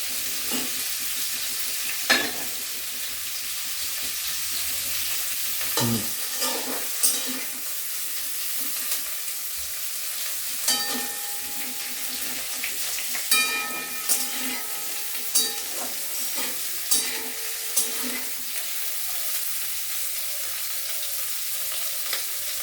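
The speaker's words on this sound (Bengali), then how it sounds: "কপি আলুটা ভাজা হয়ে গেছে আমি তুলে দেবো" Cauliflower and potato pieces frying in oil in a pan, a long steady sizzle with occasional stirring scrapes and knocks, close-up and moderately loud, with no talk.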